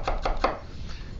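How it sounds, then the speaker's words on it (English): A knife slices an artichoke bottom thinly on a cutting board, giving three quick, crisp cuts close by, then fading into quiet. "same thing, just like the garlic, cut it nice and thin"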